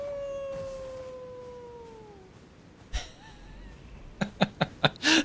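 A man imitates a wolf's howl inside the video game Elden Ring, one long falling tonal wail that fades out, followed by a string of sharp clicks and knocks near the end.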